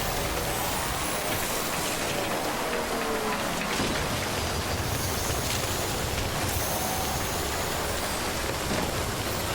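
Steady, dense timefall rain in Death Stranding: Director's Cut, a continuous hiss of drops on surfaces that stays even and close throughout, with no voices.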